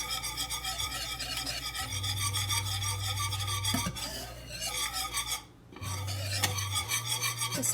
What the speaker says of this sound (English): we're going to mix it, stirring it continuously